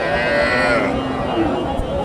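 A deshi dairy cow moos in a long drawn low call at a cattle market in Dupchanchia, Bogura, heard close alongside crowd noise and nearby talk.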